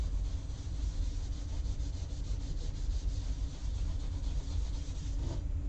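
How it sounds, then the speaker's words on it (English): A tissue buffs embossing powder off a stamped surface, producing a continuous close, dense rubbing and scuffing sound lasting several seconds, with no talk. "now we're going to do like normal and get a Kleenex and buff off our embossing powder."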